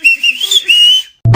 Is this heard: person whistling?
yes